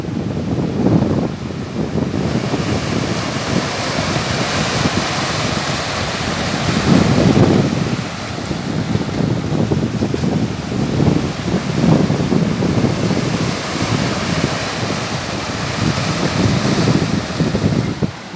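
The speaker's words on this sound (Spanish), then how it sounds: "Yo sé que a ustedes les encantan estos sonidos del mar." Strong sea surf at Boca del Río beach on the Veracruz coast, a loud continuous wash of breaking waves with gusty wind buffeting the microphone throughout, swelling in several surges and without any voices.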